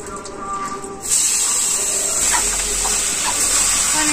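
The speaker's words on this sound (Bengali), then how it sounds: "তারপরে এখন আনাজটা দিব।" Vegetables for a village-style bottle gourd dish drop into a hot pan and burst into a loud, steady hiss that fills the rest of the moment at close range.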